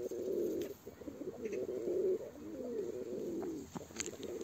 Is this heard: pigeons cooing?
yes